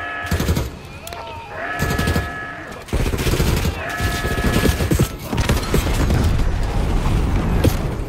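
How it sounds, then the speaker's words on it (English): Loud, dense bursts of explosions and rapid gunfire from a bomb strike in the video game Call of Duty: Black Ops 6, with repeated booming impacts and a continuous battle din filling the scene. "Call in a bomb strike."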